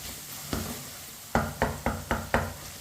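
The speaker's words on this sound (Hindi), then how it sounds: "मसालों को मैंने आधे मिनट के लिए पका लिया है चम्मच चलाते हुए" Spices frying in a pan for daal bhindi while being stirred with a spoon, a steady sizzle broken by five sharp, evenly spaced spoon knocks against the pan.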